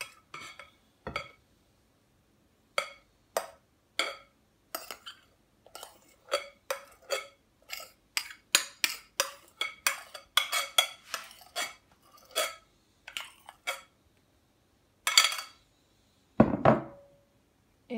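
Beaten egg whites gently folded into a cheese tart batter in a bowl, a sparse series of soft knocks and utensil clinks against the bowl in irregular bursts, close and otherwise quiet.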